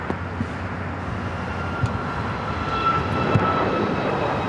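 Cathay Pacific airliner taxiing toward a north side gate at Tom Bradley terminal at LAX, heard as a loud, steady jet engine drone with a low rumble, a few faint clicks, and the noise swelling slightly toward the end.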